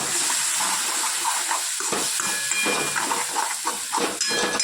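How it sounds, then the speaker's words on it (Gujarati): Water poured into a hot kadai of sweet corn paneer gravy gives a steady, loud hiss and steamy sizzle that runs the whole time, with no talking. "થોડું પાણી નાખીએ."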